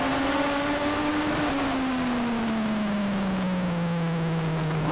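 Legends cars in a semi-pro race at Charlotte Motor Speedway accelerate on a restart, a loud, steady engine drone whose pitch slides slowly downward over several seconds, with no voices.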